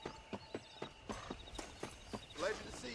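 Horse hooves clip-clop in Red Dead Redemption on Nintendo Switch, a steady walking rhythm of sharp, close hoof strikes with a voice speaking over them.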